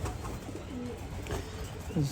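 A young 2025 racing pigeon, large in size, coos softly inside a loft, a few low calls close by with a faint voice in the background.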